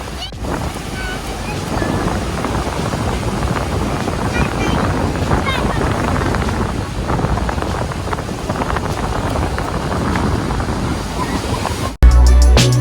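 Ocean surf rolls and breaks continuously on Monterey beach, California, a steady loud wash of waves mixed with wind buffeting the microphone, ending abruptly in a brief burst of handling noise.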